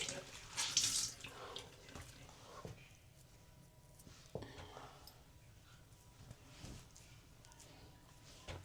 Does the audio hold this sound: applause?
no